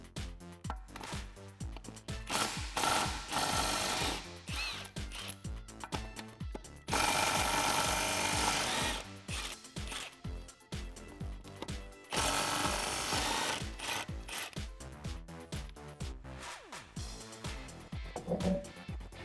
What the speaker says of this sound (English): I'm going to use a 13/16" socket in my impact wrench to take off the 3 lug nuts that are holding on our spare